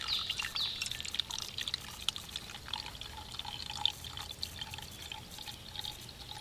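Water from a 2013 Super Soaker Switch Shot sprays and patters onto plants in a soft, steady trickle with scattered drips, while faint birds chirp in the background.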